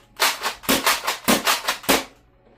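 A Superstock hybrid-magazine pump-action toy blaster is cycled and fired in quick succession. About six sharp, evenly spaced plastic clacks land close and loud, then stop.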